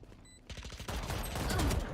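Gunfire in the tactical shooter game Valorant during a competitive round, with rapid bursts and sustained automatic fire building in density and loudness over about two seconds, close and dense, without talk.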